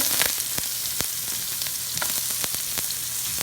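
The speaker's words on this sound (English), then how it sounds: "But we're going to throw our carrots in there." Carrots and other vegetables frying in a hot pan, a steady dense sizzle throughout with a few sharp pops and crackles, no talking.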